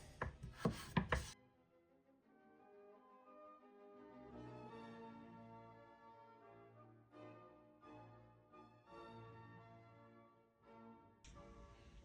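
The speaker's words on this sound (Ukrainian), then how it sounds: "Ріжемо її навпіл і отакими штучками, дольками на три частини." A knife cutting potatoes into wedges on a board, with a quick cluster of sharp chops at the start, followed by soft instrumental music.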